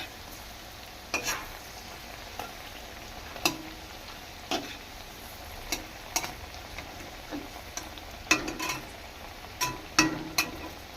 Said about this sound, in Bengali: আলু পটলগুলোকে একটু ভেজে নেবো লাল লাল করে